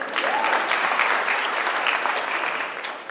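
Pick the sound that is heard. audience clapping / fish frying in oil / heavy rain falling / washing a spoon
audience clapping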